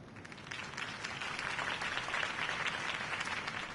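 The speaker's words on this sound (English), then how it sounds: "If only Mr. Wayne, my campaign's largest backer, could have heard that applause" Crowd applauding after Harvey Dent's campaign speech in the Telltale Batman video game, a broad, steady wash of clapping that swells slightly midway and holds for several seconds with no voices.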